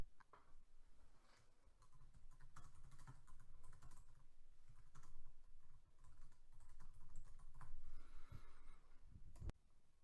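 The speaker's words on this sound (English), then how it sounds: "the field worker should type in a short yet comprehensive description of the issue at hand" Keys clatter steadily on a computer keyboard as a short description of a field work issue is typed in, a quiet, continuous patter of close taps with no one speaking.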